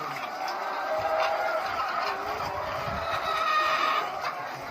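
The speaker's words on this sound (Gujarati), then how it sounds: "હા 4000 મરઘી છે અહીંયા." Hens cluck steadily throughout on a layer poultry farm housing about 4,000 birds, a dense continuous chorus of many chickens filling the shed, with occasional sharper calls rising above the flock.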